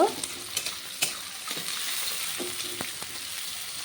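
Chopped onions frying in a pan give a continuous sizzle, punctuated by sharp clicks and scrapes of a spatula stirring, close and fairly quiet with no voices.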